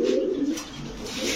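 A pair of Chuina Chuithal fancy pigeons coo softly nearby, with a brief low burbling call over light background noise.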